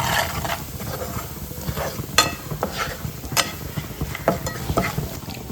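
A salted masala is stirred and cooked in a pan, sizzling steadily under intermittent scraping strokes of the spoon, close and moderately loud.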